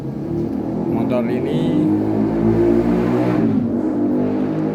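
A two-stroke motorcycle engine with a knocking piston idles loudly and close by, rumbling with a steady knocking beat throughout, with no talking.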